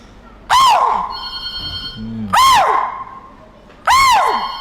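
A man imitates the call of a chital (spotted deer), giving three loud, sharp, high-pitched yelps spaced well apart, close by.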